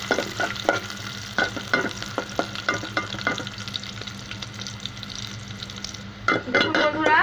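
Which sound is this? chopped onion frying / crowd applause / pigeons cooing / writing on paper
chopped onion frying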